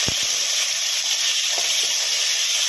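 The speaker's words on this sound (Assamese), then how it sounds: "তেল ফুটিছে, আলুখিনি অলপ ভাজি" Potatoes fry in hot oil in a pan over an outdoor fire, making a loud, continuous sizzling hiss with a few low knocks near the start.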